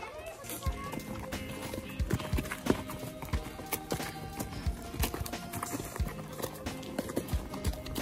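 Horses on a beach ride, hooves clip-clopping in a steady uneven walking rhythm, close and fairly loud, with faint voices and wind in the background.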